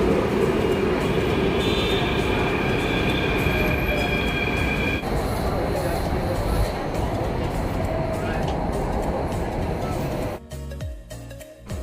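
A Delhi Metro train rumbles along steadily toward Kashmiri Gate, loud and close from inside the car, with a continuous roar and some wheel squeal before it quiets sharply near the end.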